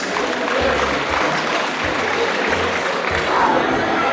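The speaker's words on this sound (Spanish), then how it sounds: "pues fuertes los aplausos para los novios" Applause and crowd noise for the bride and groom at a wedding in Ameyaltepec, a broad steady wash of clapping heard from amid the guests with a low rumble beneath.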